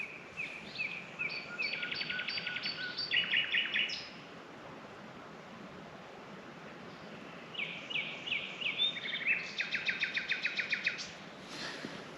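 Nightingales sing at night in rural England in rapid, repeated phrases of whistles and trills, two bursts separated by a quiet pause, against a faint night hush.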